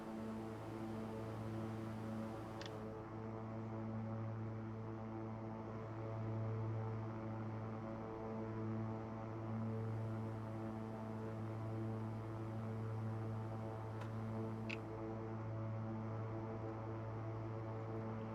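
A King Air 350 turboprop engine in a simulator, a steady, faint droning hum with a constant pulsing tone throughout, with two brief clicks.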